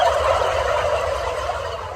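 Inside a barn, a flock of turkeys gobbles. The overlapping gobbles form a dense, continuous chorus that stays fairly loud and close with no talk.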